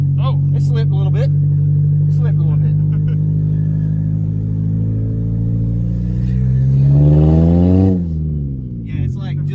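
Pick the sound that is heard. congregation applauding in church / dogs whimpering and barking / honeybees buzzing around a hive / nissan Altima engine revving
nissan Altima engine revving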